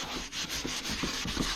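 Cleaner is rubbed into a leather car seat, giving a steady, close scrubbing friction with soft rhythmic strokes about every fifth of a second, with no voices.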